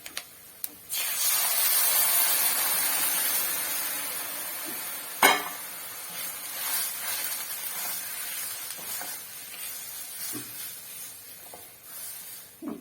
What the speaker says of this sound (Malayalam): ഈ പൊടി വക ഇടാം അതിനകത്തോട്ട്. അതൊന്ന് ചെറുതായിട്ടൊന്ന് മുത്താൽ മതി.